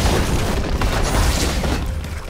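A structure blows up in a League of Legends match, a dense, loud roaring boom that fills the whole moment and rumbles steadily for over two seconds with no break.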